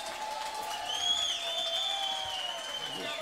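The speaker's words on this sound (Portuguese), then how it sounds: "Salva de palmas, salva de palmas." Sustained crowd applause at a live forró pé de serra show, a steady even wash of clapping with a few faint cheers, fairly loud and continuous with no talk over it.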